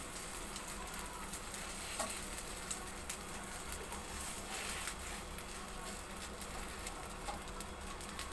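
Sausage cinnamon crepes sizzling in a pan, a steady, quiet crackle of frying with occasional small pops, alone without talk.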